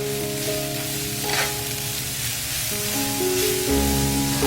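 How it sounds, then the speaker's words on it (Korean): Enoki mushrooms stir-fry fast over high heat with scallions, oyster sauce, salt and pepper, producing a steady loud sizzle with occasional stirring under sustained background music tones. "센 불에서 빠르게 볶아주세요."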